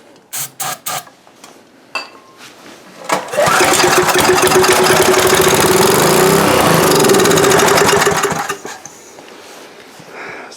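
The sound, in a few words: Coleman Powermate 5HP generator engine starting and running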